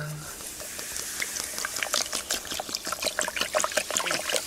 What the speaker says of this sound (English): we're gonna pour some Mountain Dew in here